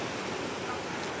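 Strong ocean waves at Sabang beach in Baler roll in as a steady, dense wash of surf noise on a rainy day, with no voices.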